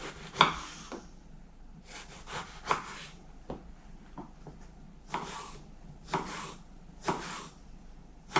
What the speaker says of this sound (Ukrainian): Ось нарізаю на ось такі смужечки.